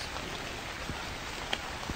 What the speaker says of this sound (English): I kind of like this like eeriness of the rain that's hitting the ground like that.